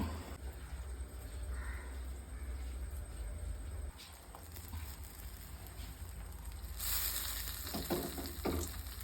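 Fish curry of kilimeen soured with kudampuli tamarind boiling in a pot: a steady close bubbling hiss runs throughout, with a brief clatter near the end and no talking.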